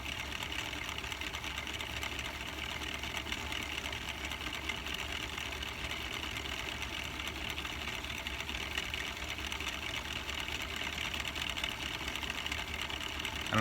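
A spinning wheel driving a Singer or Royal cone winder, winding yarn onto a cone under tension, whirs in a steady, even mechanical drone that stays close and constant throughout.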